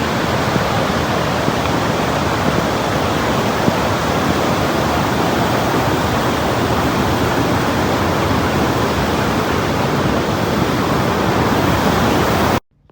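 A waterfall among mountains and valleys at Cat Cat village in Sapa, Vietnam, roars loudly and steadily without a break, then stops abruptly at the very end.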